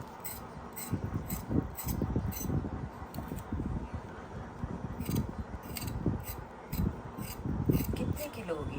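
Arbi (taro root) being peeled by hand over a plate, producing soft repeated scraping and rasping strokes, close and quiet, with faint light clinks in the background.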